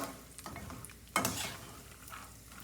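Peanuts and lentils fry in hot oil in a pan for Rayalaseema karam borugulu, a quiet sizzle with soft scraping strokes of stirring and one louder clattering burst partway through.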